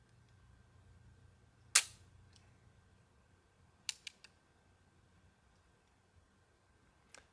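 Flintlock pistol's flint striking the frizzen, one sharp loud snap followed a couple of seconds later by a cluster of quicker, fainter clicks and a last click, with quiet between them.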